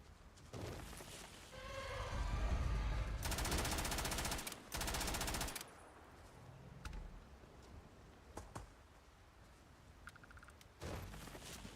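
Rapid video-game gunfire in a space shooter, bursts of automatic shots loud and dense for a few seconds, then sporadic clicks and single pops, with another burst near the end.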